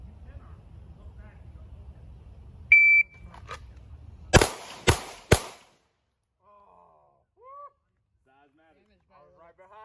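A short electronic shot-timer beep sounds at a shooting range drill, followed moments later by three loud, sharp gunshots in quick succession, then quiet with faint distant sounds.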